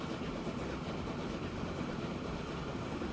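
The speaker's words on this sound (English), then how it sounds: "And there's another oil train. Well, it's coming down with crude." An oil train running in Transport Fever 2, a continuous low rumbling roll of rail wagons and engine at a steady moderate level, with no talk.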